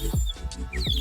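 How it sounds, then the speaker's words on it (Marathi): Faint, short chirps from birds outdoors on a farm with trees, scattered over a rumbling low background with handling noise. "ए पक्षी इकडनं बोलवत आहेत."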